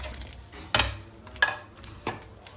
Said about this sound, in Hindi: पकोड़े ऐड कर देंगे अपने।